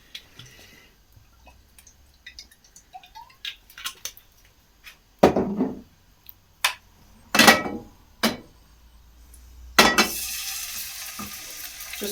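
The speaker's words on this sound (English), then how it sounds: "I'm going to baste the fish in this same oil" Smoked haddock sizzles in oil as it is basted, with quiet soft sizzling broken by several louder splashing bursts of hot oil and stirring, near and with no voices.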